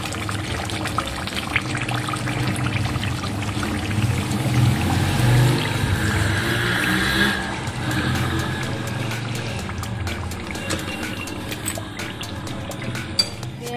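Kofta curry (salan) being dished out from the pot, a steady pouring and sloshing of thick liquid with spoon scrapes, fairly close and continuous with no talking.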